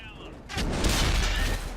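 Tank cannon fire in World of Tanks on console, a sudden heavy boom that swells into a sustained roaring rumble and crackle, with a game voice or talk mixed underneath.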